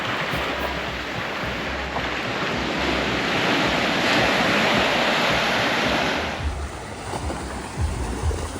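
Ocean waves at a beach in Grenada, a loud, steady wash of surf with wind rushing across the microphone, swelling in the middle and then easing back.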